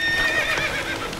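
A horse neighs in the video game The Witcher 3, a single loud, close whinny lasting about a second over faint hoof clip-clops.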